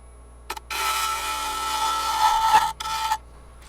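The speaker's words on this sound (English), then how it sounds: "I'm going to shear scrape that inside with the outside wing of this" Gouge shear scraping the inside of a spalted oak bowl on a lathe: a steady rasping scrape lasting about two seconds, then a short pause and a brief second pass, close and fairly loud with no talk.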